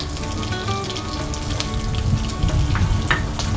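Bay leaves and chilies sizzling in hot oil with spice seeds for khichuri, a steady close crackle and spatter like light rain, with occasional sharper pops, no talking.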